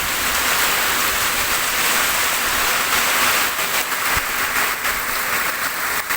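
Heavy rain pours down in a steady, dense, loud hiss that stays constant throughout, with no voices.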